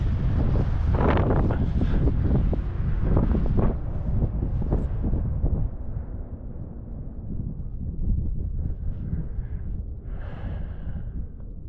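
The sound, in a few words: wind blowing into the microphone outdoors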